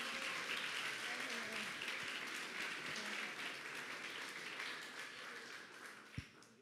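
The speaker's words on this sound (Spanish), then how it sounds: "le vamos a darle un aplauso a Dios por su vida" A church congregation applauds during a service, dense clapping from many people that stays steady and then slowly fades toward the end, with a single bump near the close.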